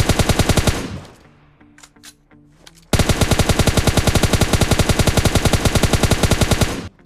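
Rapid automatic gunfire from PUBG Lite, a loud, even stream of close shots that stops for a short gap with faint clicks and tones, then resumes as a long burst emptying most of a magazine.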